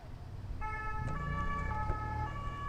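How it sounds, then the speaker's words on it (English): Police sirens wail steadily in a video game, several tones layered and continuous over a rumbling engine and traffic bed. "There's police sirens."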